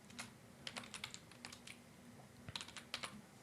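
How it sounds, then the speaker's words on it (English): Keys on a computer keyboard being typed in short bursts to enter a password, with quick clustered clicks separated by brief pauses over a faint steady hum; no one speaks. "So I'm going to just type my dummy password."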